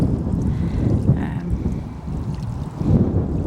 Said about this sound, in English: And the wind's getting up.